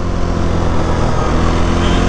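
Quad ATV engine roaring while riding, recorded on a mounted GoPro action camera: a loud, continuous droning engine note that fills the whole short stretch, close and unbroken.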